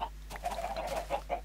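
Chickens in the video game Minecraft cluck in a quick run of short, close, moderately loud calls, heard alone over a steady low hum.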